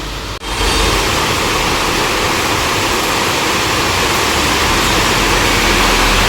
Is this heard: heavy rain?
yes